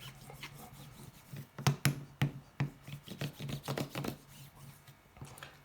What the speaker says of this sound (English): take my tool and again just burnish it all